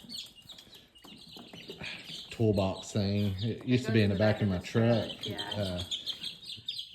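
Young chicks peep steadily in a small brooder made from an old truck toolbox with a broken lid. Their high, overlapping chirps run throughout at moderate distance, beneath a person talking.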